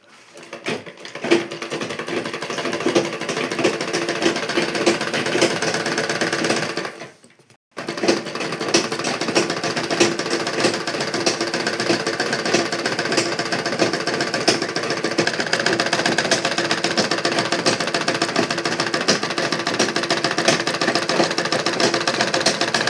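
Sewing machine stitching a blouse, running steadily for the whole stretch with a dense, rapid mechanical chatter, loud and close, broken only by a brief pause of under a second partway through.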